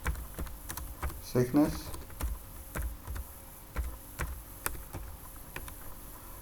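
Rapid, crisp keystrokes on a computer keyboard while parameters are entered in Autodesk software, arriving as irregular close clicks with short pauses, and someone talking briefly over them.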